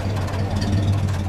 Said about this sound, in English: just get the exhaust note for a second.